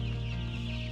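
Chickens clucking inside a poultry house, a dense, steady flock murmur with constant low mechanical hum from fans or equipment, loud and continuous throughout.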